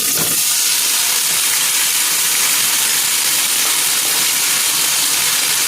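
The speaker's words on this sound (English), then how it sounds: "So, I'm gonna let this saute" Food sautéing in bright annatto oil for mackerel dumplings, a steady close hiss and sizzle that holds evenly throughout with no talk.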